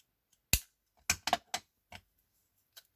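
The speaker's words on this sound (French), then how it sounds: "Je prends mes ciseaux cranteurs et je coupe, voilà, comme ça, tout autour" Pinking shears cut through paper all the way around. A handful of sharp, crisp snips come at uneven intervals, close and clear against near silence.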